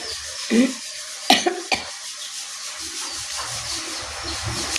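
A few sharp coughs, close and abrupt, spaced over a couple of seconds against a rustling background.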